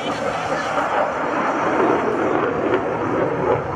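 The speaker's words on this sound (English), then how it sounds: "Aircraft now setting up for a maneuver known as the square as the Super Hornet approaches show center." An F/A-18F Super Hornet jet at a military open house airshow roars steadily overhead in a broad, constant engine rush, with an announcer talking over it through loudspeakers.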